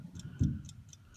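A Ruhla alarm clock ticks up close, a steady, evenly spaced run of sharp little ticks with a louder low knock partway through and no talking.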